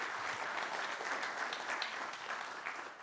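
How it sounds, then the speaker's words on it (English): Clapping fills the hall at a packaging innovation award ceremony, a continuous, even wash of many hands at moderate distance, quite faint overall and tapering slightly near the end. "Please give him a warm round of applause."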